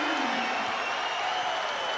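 Basketball arena crowd at a college game cheering after a one-handed slam dunk, a broad sustained roar of many voices with scattered applause, steady and loud throughout.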